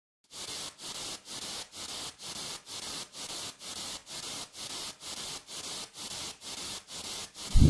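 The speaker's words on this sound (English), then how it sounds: "And some white noise." Bursts of hissing white noise in an electronic music track made in FL Studio pulse in a steady rhythm, about two per second, each cut off sharply before the next, faint and even.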